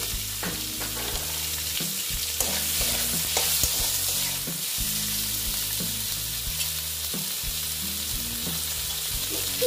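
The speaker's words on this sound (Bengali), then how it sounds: "এই তেলের মধ্যেই আমি এখন কিছু ক্যাপসিকাম আর টমেটো" Capsicum and tomato fry in hot oil in a pan, a loud close sizzle with repeated stirring clatters throughout.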